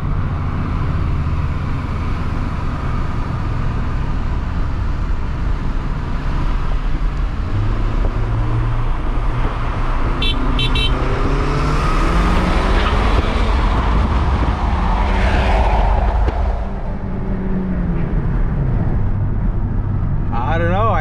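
Honda Civic Si and Civic Type R FK8 racing side by side, steady loud engine and road roar throughout with rising and falling revs as they pull away, wind buffeting, and voices talking over the noise.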